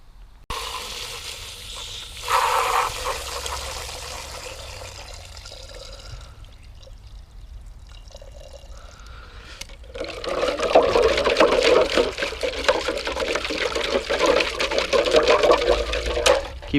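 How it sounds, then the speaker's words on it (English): Running water rinses carburetor parts from a Honda GX160 engine on a spray rig, a splashing pour that starts, drops away to a quieter trickle mid-way, then returns louder and steady with rattling as parts are handled. "now I gotta go rinse this off with water"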